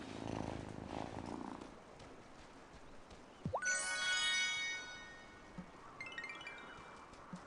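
A pet cat purrs softly up close in a game-like setting, with a brief bright chime sweeping in partway through and faint tinkling near the end over a low steady hum.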